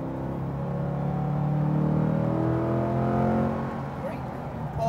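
Chevrolet Corvette C8 engine accelerating on a track at Speed Vegas, a loud, steady in-car drone with rising harmonics that climbs and then eases slightly, running the full length without pause.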